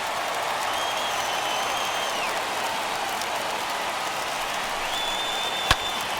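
Stadium crowd of around 34,000 fans in the baseball video game MLB The Show 21 rising to its feet in the ninth inning, a steady broad roar of cheering held throughout, with a single sharp crack near the end.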